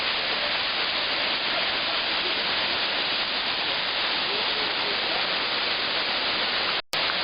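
Loud, steady rushing roar of the Narynets waterfall heard from close by on its right-hand side, a dense unbroken wash of falling water that continues without pause before cutting off abruptly near the end.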